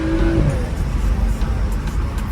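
Rumbling exhaust of a BMW F30 with the N55 engine and an Architunes front mount intercooler, a loud close drone that stays steady with no clear revs, and a voice in the background.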